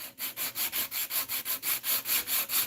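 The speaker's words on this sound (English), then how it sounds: "we can see that red showing through as we sand now" Wood being hand-sanded, the abrasive rubbing back and forth in a steady rhythm of about a dozen strokes, close and fairly loud, with red finish showing through the worn surface.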